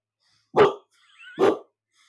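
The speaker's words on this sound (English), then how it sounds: "We have two dogs that are going to probably at some point in time make a appearance in the podcast because neither of them can be quiet" Two sharp dog barks, about a second apart, loud and close in an otherwise quiet room, with a faint whine or squeak between them.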